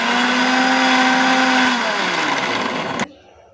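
A kitchen mixer blender grinds ginger, garlic, shallots and cumin, a loud steady whirring drone whose pitch sinks as the load changes, then cutting off abruptly near the end.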